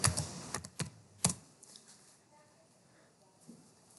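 A few quick clicks of typing on a computer keyboard while entering a command in AutoCAD, sparse and faint, with quiet room noise after the first second.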